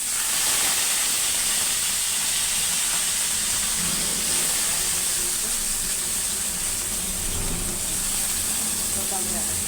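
Curry leaves dropped into a hot pan, a steady, bright sizzling hiss that holds loud and even throughout, with a voice talking faintly underneath.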